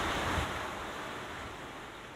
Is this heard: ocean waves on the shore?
yes